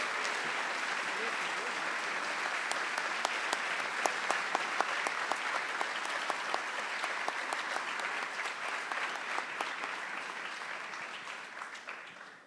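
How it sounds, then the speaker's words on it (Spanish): A large audience at a university honorary doctorate ceremony claps steadily and enthusiastically for over ten seconds, a dense, sustained wash of applause that gradually tapers off at the end. "Recibimos con un aplauso"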